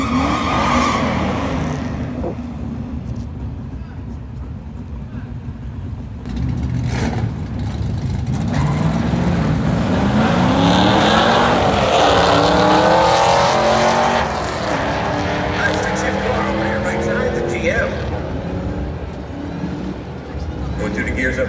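A drag racing car accelerates hard, its engine rising in pitch and dropping at each gear change as it climbs through the gears, loud and sustained with a brief lull partway through.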